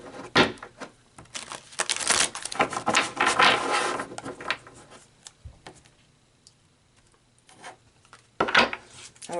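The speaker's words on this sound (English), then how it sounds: "I feel like another shuffle." Tarot cards are shuffled by hand in bursts of soft, papery riffling and rubbing, close and fairly quiet, with a pause before a final short shuffle.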